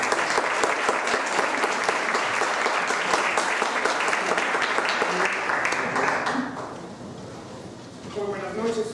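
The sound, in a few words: audience applause at a lecture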